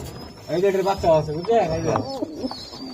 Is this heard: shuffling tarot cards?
no